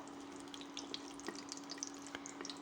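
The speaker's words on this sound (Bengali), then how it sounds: "আর দিলাম এলাচ দারচিনি লবঙ্গ আর গোলমরিচ এবার একটু সেগুলিকে ভেজে নেব" Whole cardamom, cinnamon, cloves and black pepper frying in oil with dried red chillies, a soft steady sizzle with faint scattered pops and crackles throughout.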